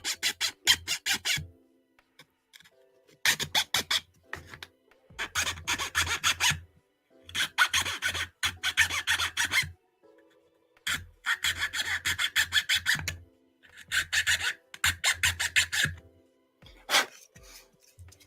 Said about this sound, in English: It's easy enough to fix with a file.